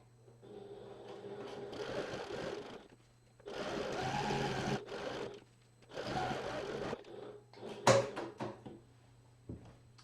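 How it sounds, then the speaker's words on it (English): A sewing machine bastes a fabric panel for a duffel backpack along its side and bottom seams, running in three steady bursts with pauses for pivoting at the corners, then a sharp clack near the end. "start with your needle down, because that will help you to stop and pivot at the corners, and then just baste down the sides, along the bottom, back up the other side"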